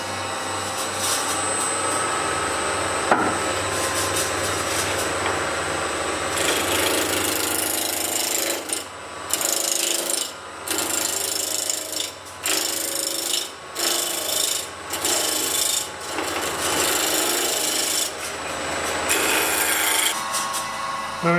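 Wood turning on a lathe spinning at about 1800 RPM, with a tool rasping and scraping against an off-center workpiece in a steady, close, continuous grind that briefly drops out and resumes several times.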